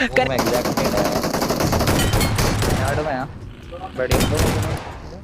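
Rapid gunfire in the Apex Legends battle royale game, with loud dense bursts of shots that break off briefly midway and then resume, with a voice talking underneath.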